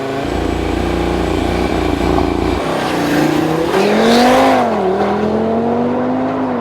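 An Audi five-cylinder turbo engine revs loud and close, a deep steady drone that climbs and dips in pitch, then eases back with a rising whine. No one speaks over it.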